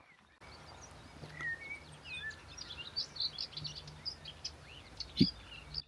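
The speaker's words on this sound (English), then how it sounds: "You can hear that chattery little warbler in here with the whitethroat" Outdoors in spring, a common whitethroat and a small warbler sing, a fairly faint scattering of chattery chirps, short trills and high tweets over a quiet background, with one brief louder knock near the end.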